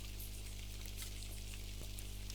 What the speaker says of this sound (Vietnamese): Trời lại tiếp tục mưa nhỏ.